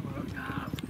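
Horse hooves clip-clop in a quick uneven rhythm during kokboru team training in Osh region, mixed with an excited voice talking over them.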